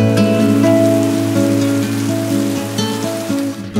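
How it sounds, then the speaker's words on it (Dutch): Rain falls steadily and loudly at a holiday wellness suite with a jacuzzi, a dense continuous patter layered over a prominent steady tonal hum, easing slightly toward the end. "Het begint nu te regenen"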